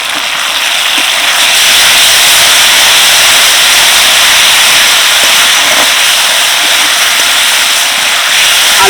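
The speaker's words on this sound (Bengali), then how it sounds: "এবার আমি দিয়ে দিচ্ছি ভেজে রাখা আলু" Fried potatoes tossed into spiced masala in a hot oiled pan for a green banana dish, giving a loud, steady, dense sizzle and hiss throughout with no talking.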